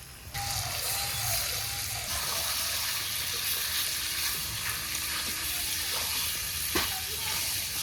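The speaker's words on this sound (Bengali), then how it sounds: "এখন আলু দিব, কিছু সময় নাড়াচাড়া করে ঝোলের গরম জল দেবো।" Potatoes fry in a pot with mutton curry, giving a steady close sizzle and hiss with faint stirring scrapes throughout and a brief clink near the end.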